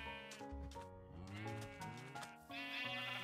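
Sheep bleating in Minecraft, a run of wavering synthetic bleats layered over one another, loud and continuous for about three seconds with no talk.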